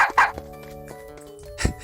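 A toy-like in-game dog from a plushie game gives a few short barks and yips at the start and end, with a faint musical background between.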